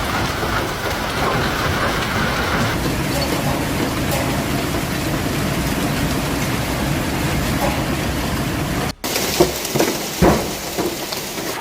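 A heavy downpour during a hailstorm in Johannesburg, with dense, steady hiss of rain drumming on surfaces at close range, and a few sharper knocks and splashes toward the end.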